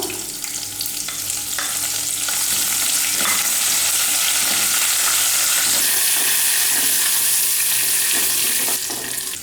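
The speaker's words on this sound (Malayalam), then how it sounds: "ഇനി ഇതിലേക്ക് കറിവേപ്പില 3 തണ്ട് കറിവേപ്പില ചേർത്ത് കൊടുക്കാം." Curry leaves crackle loudly in hot oil along with chopped garlic and green chilli, a dense continuous sizzle with spitting pops throughout and a spoon scraping the pan now and then.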